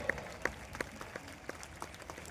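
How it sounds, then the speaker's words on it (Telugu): A small audience at an institution run by women applauds with sparse, distinct claps, scattered hits rising above a faint room background. "అందరూ కూడా చప్పట్లు కొట్టాలి"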